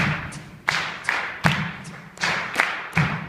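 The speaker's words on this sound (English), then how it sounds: "Let's get the clapping rhythms in next, together" A choir claps rhythms together during a warm-up, with about eight sharp, evenly spaced claps in a steady pulse. The claps are fairly close, with no talking between them.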